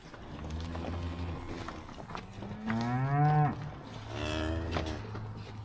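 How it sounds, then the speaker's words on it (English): Heifers moo inside a barn, several long, drawn-out calls following one another, one rising louder in the middle, heard close with faint shuffling and hoof sounds underneath. "So we got all of our heifers in."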